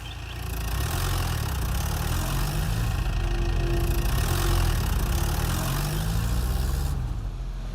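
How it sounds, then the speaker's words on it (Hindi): A tractor engine idles steadily at close range, a continuous low rumble with no breaks through the whole stretch, on a sand-collection site in an action film. "ट्रैक्टर लेकर ऊपर ही खड़े हैं?"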